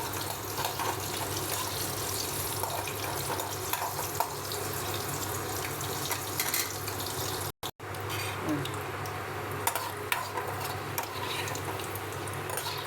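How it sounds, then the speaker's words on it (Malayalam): Fish frying in hot oil with chopped green chilli, a steady dense crackle and hiss that runs nearly unbroken for the whole stretch, close and loud, with a brief gap partway through and no talk. "ഇതിനെ കുറച്ചൊന്ന് മൂത്ത് വരുന്നവരെ വറക്കണം."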